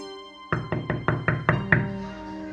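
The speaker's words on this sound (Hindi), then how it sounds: "शामू थक हार कर रामू के दरवाजे पर फिर से दस्तक देता है।" Seven firm knocks on a door in a quick, slightly uneven series, close and fairly loud, each with a short hollow ring after it, and no voices.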